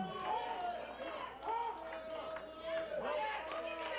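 Wrestling crowd at an FGW Shockwave show cheering and chanting in a sustained roar, loud and steady with rising swells, under voices talking.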